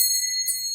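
A small bell rings with a clear, sustained high tinkle that lingers and fades slightly, heard alone and close with no talking.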